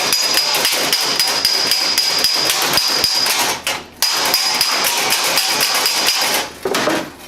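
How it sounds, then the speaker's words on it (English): A hammer and dolly flatten a dent in sheet metal with rapid, sharp metallic taps in a fast, steady rhythm, close and loud, pausing briefly twice. "you can take a hammer and dolly set"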